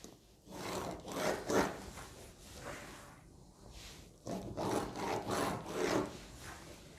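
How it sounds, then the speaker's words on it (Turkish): Marking a seam-allowance line on dress fabric where leather will be added, heard as close, rough rubbing strokes in two bursts separated by a short pause. "buraya deri ekleyeceğim için dikiş payını vererek çizgi çiziyorum"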